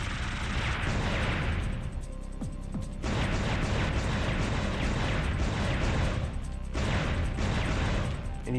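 A ship's cannon in the PS1 shooter Einhander fires in long, loud, crashing bursts that cut out briefly and then resume, each stretch a dense wall of blasts.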